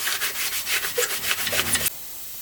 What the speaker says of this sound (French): en prévision de la peinture, tout le reste est aussi poncé